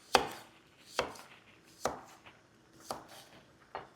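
A knife chops zucchini on a cutting board in five crisp, separate strikes spaced about a second apart. The sound is close and clear against a quiet kitchen background.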